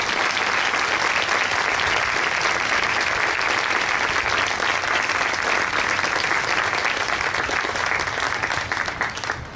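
Sustained, dense applause from a crowd at an outdoor Memorial Day ceremony, steady and loud throughout before tapering slightly at the end.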